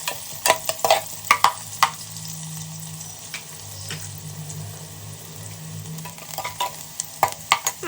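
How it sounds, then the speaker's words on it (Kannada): Onions frying in oil until light brown for a sprouted field bean sambar, a low steady sizzle broken by sharp scraping and clinking spoon strokes against the pan, with louder stirring bursts at the start and end. "ಈರುಳ್ಳಿ ಬ್ರೌನ್ ಆಗೋ ತನಕ ಫ್ರೈ ಮಾಡ್ಕೋಬೇಕು"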